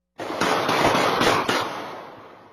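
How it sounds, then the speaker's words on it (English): Several sharp gunshots in quick succession, picked up by a doorbell camera, loud and close, each cracking out and leaving a ringing decay that fades after the last shot. "These are the gunshots and screams of a murder victim that Naheem Simon's doorbell camera caught"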